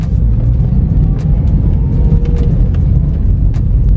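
A Toyota Vios Limo engine, an ex-taxi, hums and rumbles steadily at close range up a parking garage ramp, a continuous low drone with slight rises in pitch as it climbs, no talking.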